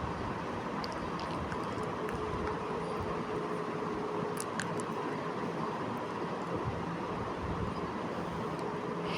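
A local train at Chennai Central railway station gives a steady, continuous rumble and hiss of station and rail noise at a moderate level throughout, with a few faint clicks and no clear talk.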